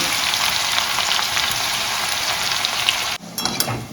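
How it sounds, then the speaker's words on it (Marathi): Garlic fries in hot oil for a poha chivda, producing a loud, dense, even sizzle that cuts off abruptly near the end, followed by a few brief crackles. "आपण लसूण तळून घेऊया"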